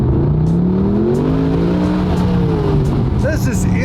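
A Mercedes SLS supercar's engine revs up with a rising roar, then a few sharp exhaust pops crackle near the end. A voice speaks over the engine.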